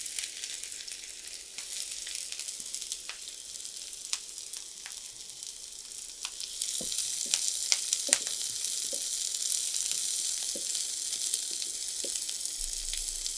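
Onions frying in mustard oil for a Bangladeshi tomato mash, a constant hissing sizzle that grows louder partway through, dotted with light clicks and scrapes of stirring.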